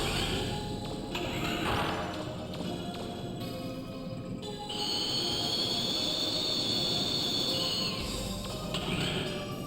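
Metal-on-metal grinding and screeching while turning in Mega Man Legends 2, a harsh sustained scrape with a shrill whine in the middle, amid game noise.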